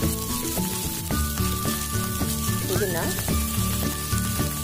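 Chopped onion, curry leaves and green chillies frying in hot oil for a Kannada carrot fry, heard as a loud, steady sizzle and crackle close up, with a voice speaking briefly over it.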